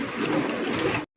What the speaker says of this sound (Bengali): যেহেতু এটা ইংলিশ নান কবুতর